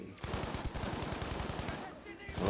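Rapid automatic gunfire in the Battlefield V video game, a dense run of sharp repeated shots that rattles continuously for most of the moment, loud and close.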